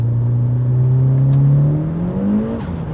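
A Mitsubishi Evo 9 engine, a 550 horsepower car, revs loudly in fourth gear as its clutch slips, the engine note climbing steadily and smoothly under a high whine, with no speech.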